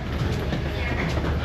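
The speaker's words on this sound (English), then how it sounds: "Made it off the train." A New York City subway train rolls along with a dense, steady rumble that stays loud and even throughout, with no pauses and no voices.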